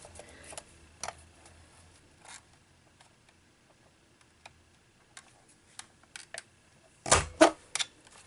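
An alphabet punch board punching paper for a Christmas bow angel ornament: sparse, crisp clicks and snaps, faint and intermittent, ending in a louder cluster of sharp punches.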